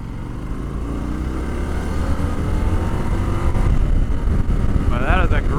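The engine of a 2025 Indian Super Scout Limited cruiser motorcycle rumbles steadily and grows louder as the bike accelerates, with a brief rising whine near the end.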